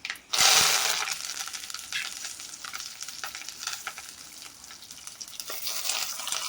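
Curry leaves hit hot oil already crackling with mustard and fenugreek seeds for a sardine curry, a sharp loud spitting burst at the start that settles into a steady close sizzle, with no voices.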